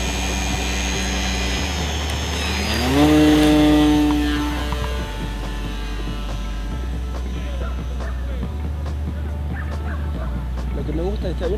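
A HobbyKing P-26A Peashooter radio-controlled model plane flies overhead, its electric motor giving a steady whine that swells to a louder rising pass around mid-clip, then settles into a continuous drone with a constant low hum beneath.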